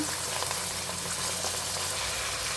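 Chopped carrots, beans, potatoes, peas and tomato with ginger-garlic paste fry in hot oil for a vegetable bath, giving a steady, close, even sizzle that runs without a break and with no voices.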